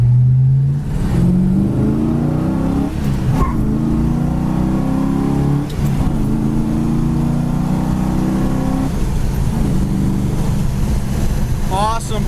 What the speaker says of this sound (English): This car not only looks great,